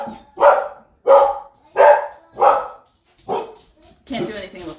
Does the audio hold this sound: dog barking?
yes